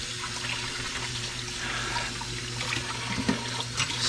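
A tap runs steadily into a kitchen sink while potatoes are scrubbed with a sponge, a continuous close rushing splash with no speech.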